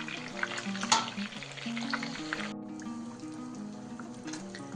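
Fish pieces for Kashmiri fish curry sizzle gently in a pan, a steady low crackle with a few brighter pops early on, then settling into a quieter fry.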